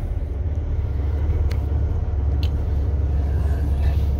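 A 2021 Volvo VNL tractor's diesel engine idling: a steady, even low rumble that continues without a break, with a couple of faint brief ticks on top.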